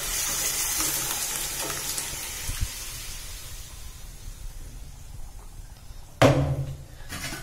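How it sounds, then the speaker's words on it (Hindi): Hot oil sizzles loudly at first and slowly quiets, then a sudden burst of crackling sizzle as lentils hit the pan near the end. "अब मैं ये दाल डाल देती हूँ।"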